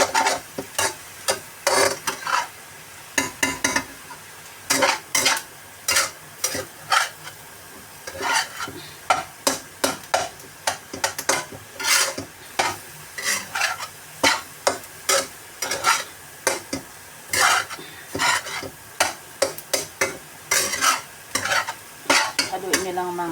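Cauliflower garlic fried rice being stirred in a pan, with dense rhythmic scraping and clacking strokes of a spoon against metal over a light sizzle, close and loud, with short pauses between bursts of stirring.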